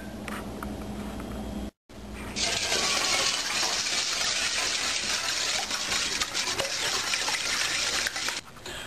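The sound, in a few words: cracking eggs open and whisking them in a bowl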